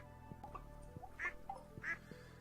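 Farm ducks in Stardew Valley quack a few times, bright and fairly close, over a soft looping background of game music.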